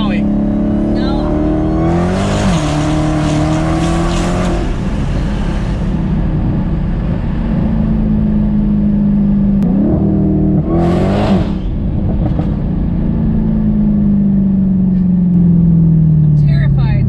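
An 800-horsepower Dodge Challenger Hellcat roars and whines under hard acceleration, its engine pitch climbing and dropping through gear changes, loud and close inside the cabin while people talk over it.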